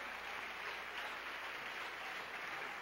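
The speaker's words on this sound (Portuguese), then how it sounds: "Você pode aplaudir ao Senhor, bendito seja o Rei da Glória." A congregation claps during a church worship service, a steady wash of applause that runs from start to finish at a fairly faint, even level, with no voices standing out.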